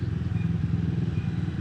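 A motorcycle exhaust during a rush-hour ride gives a loud, close, steady rumble with a rapid even pulsing throb, unbroken through the short moment, with no speech.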